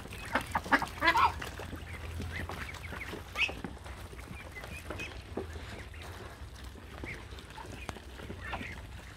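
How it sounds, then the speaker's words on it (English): Ducks and Pekin ducks quacking and honking nearby, a cluster of loud calls early then scattered softer quacks and rustling throughout. "Mga friendship na mga bibi at saka peking."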